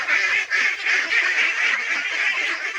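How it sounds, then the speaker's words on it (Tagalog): A flock of hungry pet ducks quacking noisily and continuously in a loud, close, overlapping chorus of nasal calls with no pauses. "Talagang gutom na po talaga yung ating alagang itik guys. Kasi ang ingay na po nila."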